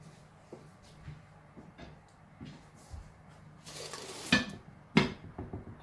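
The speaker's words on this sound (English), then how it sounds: "Put the lid back on." Heavy lid clanking back onto a cast-iron Dutch oven holding a sourdough loaf, two sharp metallic knocks near the end after soft kitchen handling sounds.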